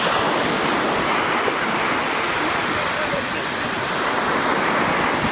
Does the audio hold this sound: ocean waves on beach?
yes